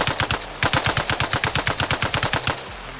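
Suppressed AKS-74U fired in the Arma Reforger video game: about twenty rapid, evenly spaced shots in quick bursts with a brief break near the start, loud and close.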